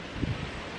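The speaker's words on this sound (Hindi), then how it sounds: "तो अज हवा चल रही बहुत तेज" Strong wind blows outdoors as a broad, steady rush with a brief gusty buffet across the microphone, sounding close and continuous with no talking.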